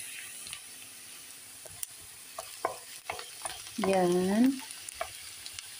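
Ground pork and onions cooked in a pan, a faint low sizzle with scattered utensil knocks and scrapes, plus a brief high tonal squeal near the end, one short spoken word at the start.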